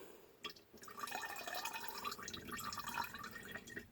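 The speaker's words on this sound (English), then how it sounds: "see how that's dripping like that? It's got water in it" Water drips and trickles from the plastic carburetor of a Bolens 5 hp push mower during cleaning, a faint, close, irregular patter of small drops with no talking.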